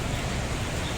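Rain falls steadily outdoors on a walk in Taiwan, a dense, even hiss that continues without a break.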